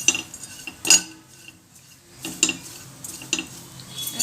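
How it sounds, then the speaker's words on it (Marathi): A modak ingredient is dry-roasted and stirred in a pan, producing intermittent clattering scrapes of a spoon against metal in short bursts, with quiet gaps between and no clear sizzle. "चांगलं मस्त भाजून घ्यायचं"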